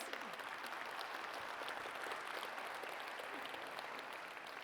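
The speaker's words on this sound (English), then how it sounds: "applause" Audience at a business awards ceremony applauding, sustained dense clapping heard faint and somewhat distant, holding steady throughout.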